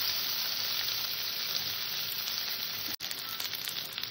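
Mango pieces frying in oil over a low flame make a dense, even sizzle that runs throughout, with one brief dropout near the end.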